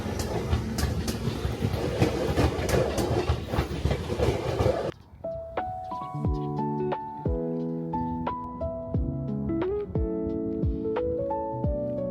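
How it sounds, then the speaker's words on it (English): A railway track maintenance tamper vehicle rumbles and clatters loudly for several seconds, then gives way to a series of bright chiming tones, in Japan. "a specialized track maintenance vehicle"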